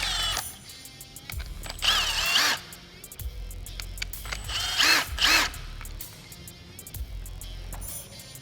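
A power tool whirs in bursts while pulling hardware out of a windshield clamp for a flip windshield on a Polaris RZR, two louder runs standing out over quieter mechanical handling and clicks.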